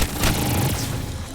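A single gunshot from a Call of Duty Zombies cutscene cracks loudly at the start, followed by a booming low rumble that trails off under a dense, reverberant backdrop.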